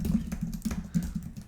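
Keys on a computer keyboard tap softly in a quick, uneven run of clicks as an HTML tag name is typed, with a low steady hum beneath and no talking.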